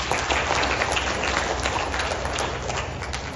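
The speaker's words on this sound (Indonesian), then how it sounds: "Sama-sama kita tepuk tangan" Dense, steady applause from a large audience at a university ceremony in Palembang, loud and continuous throughout with no break.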